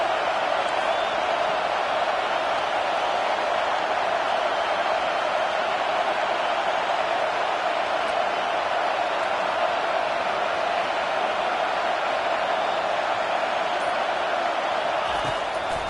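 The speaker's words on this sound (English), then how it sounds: "Here comes this home crowd as the defense tries to get off the field on 3rd down." Home crowd noise at a Florida Gators football game, a steady, dense roar of cheering that holds at an even level throughout, broad and distant-sounding, with no distinct voices standing out.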